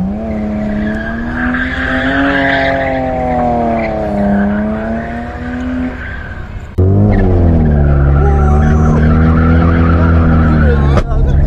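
A BMW E90 drifts at a drift course, its engine screaming at high revs with wavering pitch and tires squealing continuously, loud and close, then a harsher, louder burst of engine and skidding.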